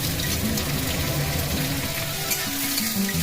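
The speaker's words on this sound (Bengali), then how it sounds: "পেঁয়াজটাকে একটু ভাজা করে নিই।" Chopped onions fry in hot oil with a loud, close, continuous sizzle and crackle, heard alone with no talking.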